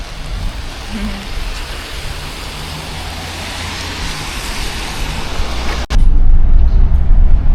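Steady rain and gusting wind on a stormy day outdoors before boarding a bus, a broad loud wash of noise with a sudden louder buffeting blast near the end.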